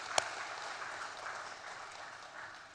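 Applause from a congregation in a church youth dedication worship service, a soft, distant, even patter of many hands with one sharp nearby clap near the start, fading slightly toward the end.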